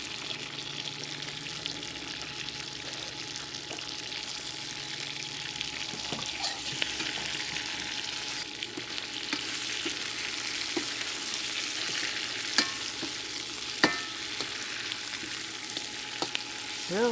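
Chicken wings stir-frying over high heat in sweet bean sauce with green onions, a loud continuous sizzle with scraping stirs and occasional clinks of the utensil against the wok.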